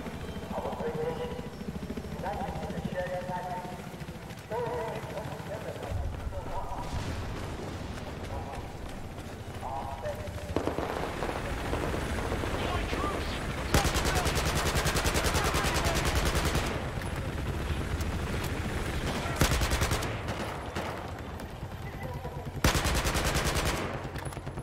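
Gunfire in the Battlefield 4 video game, bursts of rapid automatic fire and scattered shots that grow dense and loud in the later half, with players talking over the action.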